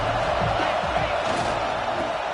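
A stadium crowd roars in College Football 26 during a third-and-goal defensive stand, a loud, dense wash of cheering that holds steady throughout without letting up.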